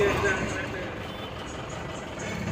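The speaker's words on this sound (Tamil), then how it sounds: "டிராஃபிக்கில் இருக்கிறோம்." Heavy night-time traffic jam on the Villupuram bypass: a dense, continuous rumble of idling trucks and buses close by, with someone speaking over it.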